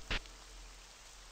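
Rain falls outside in an animatronic horror game, a steady, faint hiss that runs throughout with one short louder burst near the start.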